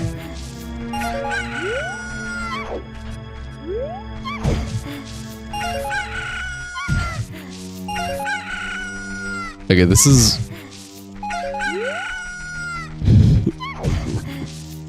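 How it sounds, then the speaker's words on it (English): Chickens in the Ocarina of Time video game, with repeated rooster crows and clucks in a loud, choppy sequence of bursts, while a person talks briefly over them. "These chicken noises, I'm sorry. They're getting a little annoying already."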